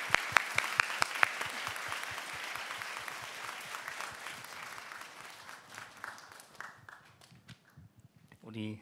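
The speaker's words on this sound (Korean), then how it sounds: "하나님께 영광의 박수를 올려드리며 제 설교를 마치겠습니다" A church congregation at a Seoul worship service breaks into applause, a few sharp claps first, then a broad steady wave of clapping that thins out toward the end under a speaking voice.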